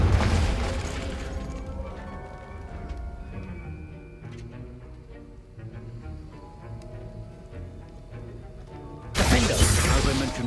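Confringo fire-blast spell cast in Hogwarts Legacy: loud, broadband explosive bursts open and close the stretch, with quieter game ambience and music between them.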